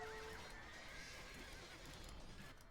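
Horses neigh in a real-time strategy game during a ladder match, a whinny standing out early over steady hoof clip-clop and faint game noise.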